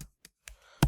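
A few sparse, separate keystrokes on a computer keyboard, close and crisp, with short silent gaps and a louder final press.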